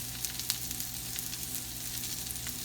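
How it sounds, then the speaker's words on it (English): Cabbage sautéing in a pan gives a constant, dense sizzle at an even level. Small crackles and pops rise through it, close by, with no voices. "Been sauteing our cabbage for about 2 minutes"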